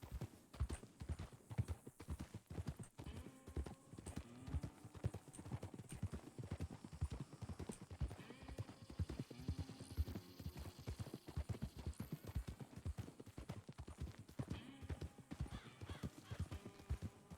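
Horse hooves clip-clop in a steady, even walking rhythm in the RedM western video game, clear and continuous with faint background hum and a brief snort.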